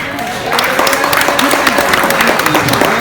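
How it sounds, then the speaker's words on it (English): Audience at an open mic night in Willowdale breaks into a dense, steady round of clapping for a performer, filling the room at close range for a few seconds, with a voice speaking over it. "Big round of applause for David, everybody."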